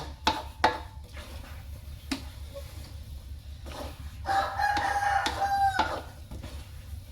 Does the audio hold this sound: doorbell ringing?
no